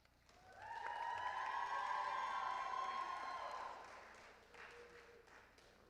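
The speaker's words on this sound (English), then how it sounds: "round of applause." At the 2025 SIUE spring commencement, graduates applaud their family and friends, a distant crowd cheer with whoops and rising shouts swelling from the hall, faint clapping beneath, dying away after a few seconds.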